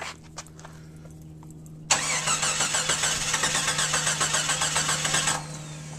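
A Jeep XJ engine cranks with a loud, rhythmic starter churn for about three and a half seconds and then cuts off without catching, after a few faint clicks and quiet mechanical noise.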